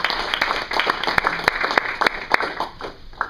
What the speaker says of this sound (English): So let's go ahead and give him another round of applause.